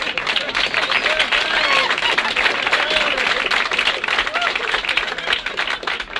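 Nightclub audience at a Playboy Club comedy-music show applauds in a sustained, dense wave of clapping, with a voice briefly audible over it.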